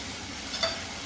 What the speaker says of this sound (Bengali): এখানে টমেটো ভালো করে ভাজাভাজি মানে ফ্রাই করা হয়ে গেছে